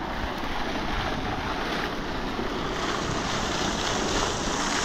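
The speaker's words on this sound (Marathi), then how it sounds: "पाणी चालूच आहे." Water runs steadily through an irrigation channel in a wheat field, a constant loud broadband rush with wind-like noise and no pauses, and no talk over it.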